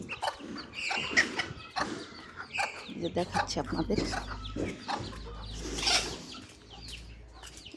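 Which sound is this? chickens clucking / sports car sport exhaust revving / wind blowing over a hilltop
chickens clucking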